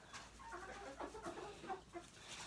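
A rooster calls faintly in the distance, several short throaty bursts against a quiet background.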